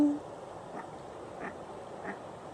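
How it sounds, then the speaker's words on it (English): A duck bathing gives three short, faint quacks spaced about half a second apart over steady outdoor background noise, with no talk. "Oh, he's taking a bath. Oh, I've never seen that species of duck before."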